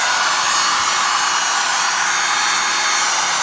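A power drill blows a steady, loud rush of air into a fireplace to revive a dying ember, a continuous even whoosh lasting a few seconds with no voices.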